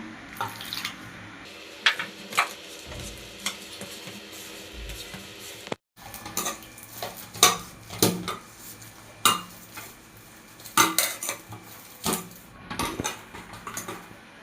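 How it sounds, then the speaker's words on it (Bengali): Flour dough is kneaded by hand with warm water added little by little, giving irregular soft wet slaps, squishes and light knocks against the bowl that recur close by, with a brief pause partway through. "এবার একে অল্প অল্প করে উষ্ণ গরম জল দিয়ে মাখবো"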